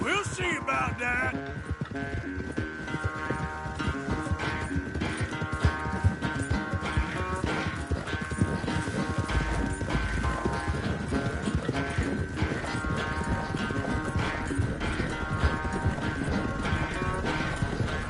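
Horses riding in Red Dead Redemption 2, a continuous rapid clip-clop of hooves at a steady gallop with an occasional whinny, running under background music and brief speech.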